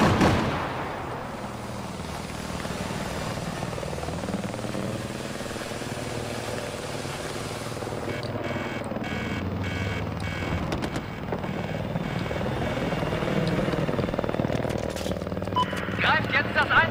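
A helicopter in the video game Battlefield 4, a steady droning rotor and engine hum that runs throughout with rapid chopping and gunfire bursts in the second half, while someone talks over it.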